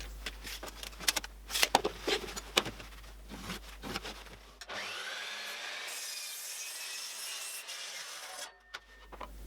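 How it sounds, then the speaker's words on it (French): A hand saw works through a reclaimed planed wooden plank, uneven rasping strokes and knocks for several seconds, then a steadier continuous scraping hiss near the end, close and moderately loud. "il va falloir la couper en deux afin d'obtenir deux sections de bois qui feront chacune 50 cm de longueur"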